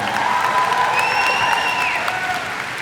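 Audience at VidCon applauds and cheers in a steady wash of clapping from a large crowd, loud and continuous throughout, with a few whistles rising above it.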